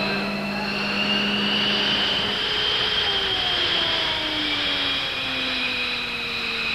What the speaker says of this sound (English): Captain Dave Slade revs the engines